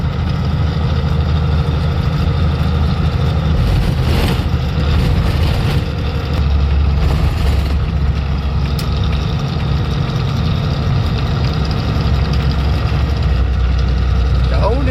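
A truck engine labors steadily up a mountain road, a continuous loud low drone close by for the whole stretch, with brief rises from passing traffic.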